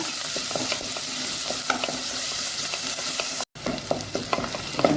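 Onions fry in a pan with a constant bright sizzle, broken by occasional scraping stirs and one brief dropout, close and fairly loud.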